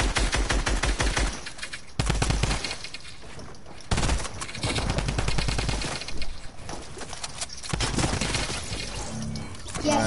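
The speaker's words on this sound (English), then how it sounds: "I'm gonna shoot at his teammate" Gunfire in a video game rattles in loud, dense rapid bursts that run almost continuously, broken by a few short gaps.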